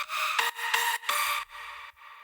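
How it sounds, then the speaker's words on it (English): A Nexus synth lead in the style of a classic drop plays a few short, bright, airy stabs and sustained notes, rhythmic and clear with no talking. "Lead 3 is from Nexus."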